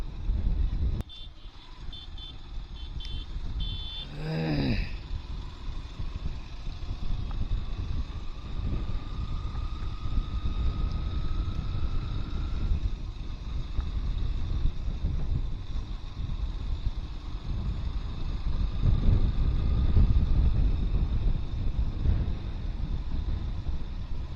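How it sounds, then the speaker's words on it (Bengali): Strong wind buffets the microphone during a ride along the bank of the Rupnarayan river, a constant low rumbling roar that swells toward the end, with a brief rising electronic chirp early on. "দারুণ হাওয়া দারুণ হাওয়া"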